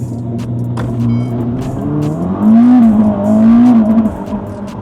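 A Ferrari SF90 Stradale Assetto Fiorano launches hard under launch control, its engine note climbing loud and close in a rising surge, then pulling on at a steady high pitch after a shift.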